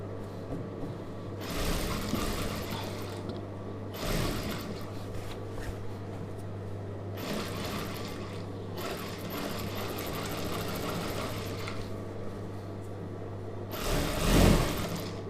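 A sewing machine stitches a chudidhar sleeve in several separate runs, each a whirring burst of a second or more, broken by short pauses under a steady background hum.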